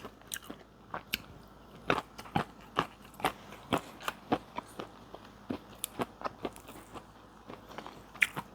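Crispy roasted fish innards (tai pla) eaten with rice give close, quiet crunching bites in a steady, irregular rhythm, with no talking.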